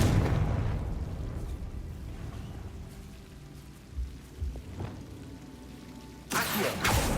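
A Confringo spell in Hogwarts Legacy erupts as a fiery blast: an initial rumbling burst fading into crackling debris, a few scattered pops, then a second loud burst near the end.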